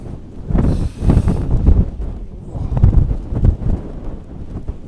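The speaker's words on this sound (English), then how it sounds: "Look at the blooming wind." Strong wind gusts buffet an open tarp and bivy camp overlooking water, roaring and rumbling close to the microphone in uneven surges with no talk.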